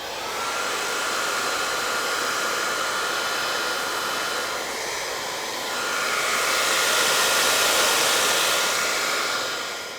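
Hot air blower blasting steadily at FlexiWood mouldings on an ornamental birds sign, a loud continuous whooshing roar that dips briefly midway and rises again before cutting off.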